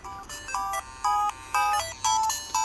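Game audio from a refurbished Game Boy DMG plays loudly through an added amplified speaker: a repeating pattern of bright beeping chiptune tones in short pulsing bursts, clear and close with no talk.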